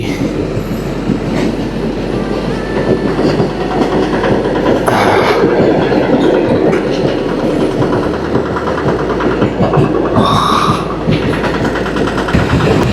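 A train rumbles past close by at a rail crossing gate in India, a loud continuous roar of rolling wheels and rattling wagons with occasional squeals and clicks over the rails.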